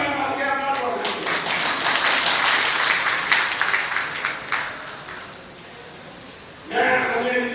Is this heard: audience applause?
yes